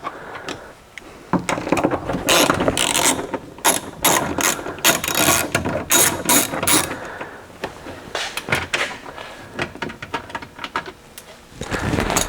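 Hand ratchet unscrewing 7mm bolts beneath the door armrest of a Ford Super Duty truck, close and loud, with rapid bursts of clicking pawl strokes broken by short pauses.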